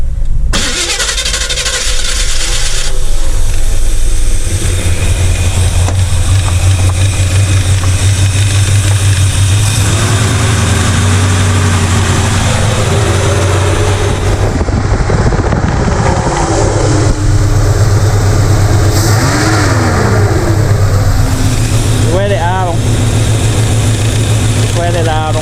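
A V8 Chevrolet El Camino engine runs at a steady idle just after its first start in years, a loud continuous low rumble with some mid-frequency whine. People talk over it now and then.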